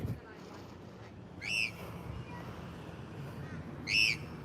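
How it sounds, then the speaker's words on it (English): A loud wild bird somewhere overhead in the Australian bush gives two separate shrill, ringing calls, standing out clearly above faint wind and background noise. "What bird is making that noise?"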